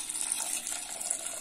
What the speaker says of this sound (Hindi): और 2 कप पानी ऐड करेंगे।